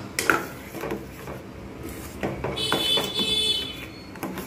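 A spoon stirring Bengali rice payesh made with Gobindobhog rice and cashews in a pan, giving intermittent scraping and clinking strokes against the metal, close and fairly clear, with no talk.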